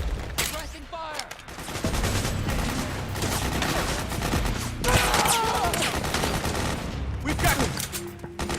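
Sustained video-game gunfire in Metal Gear Solid 4, dense overlapping bursts and rattling volleys running throughout at steady loudness, with shouted voices mixed in among the shots.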